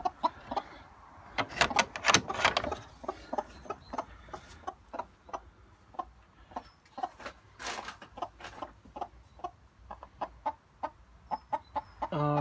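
A broody hen sitting on a clutch of eggs gives a run of short, clipped clucks and soft grumbles, close and irregular, with a few louder bursts scattered through the quiet.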